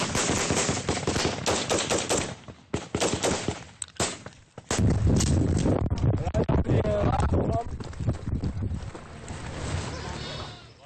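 Rapid bursts of gunfire crackle during a patrol, loud and close at first, then a dense stretch of shots and rumble mixed with wind buffeting the microphone, while voices talk intermittently.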